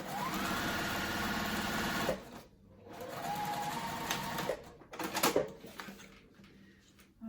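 A sewing machine top stitches a vinyl Zip n Go crossbody bag, a close, steady mechanical whir that runs for about two seconds, pauses, runs again, then gives way to brief handling clatter.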